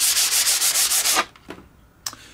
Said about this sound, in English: rubbed it down very slightly, very quickly with this sanding block, which is a foam sanding block